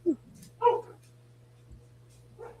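A dog somewhere off at a distance, heard indoors, gives a few short, sharp barks and yips, spaced apart and fairly faint over a low steady hum.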